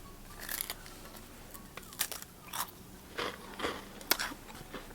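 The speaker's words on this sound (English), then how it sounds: "So I hope you not one of those people that get mad by people chewing, because I do chew kind of loud" Graham crackers are chewed loudly close to the mic, giving a series of sharp, irregular crunches and bites spread over a few seconds, with no talking.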